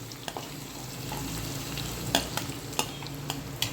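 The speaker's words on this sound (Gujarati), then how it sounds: "ડુંગળી અને મરચાંને હું 1 થી 2 મિનિટ સુધી પહેલાં સાતળી લઈશ" Finely chopped onions and green chillies sauté in a pan for upma, a soft steady sizzle close by with a few sharp clicks and scrapes of a spoon stirring, no voices.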